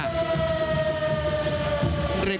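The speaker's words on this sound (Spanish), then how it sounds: "sirena, que es un grito de guerra" Blooming football club's stadium siren, the Academia Cruceña's war cry, wails loud and steady on one sustained pitch with crowd noise underneath, ending abruptly.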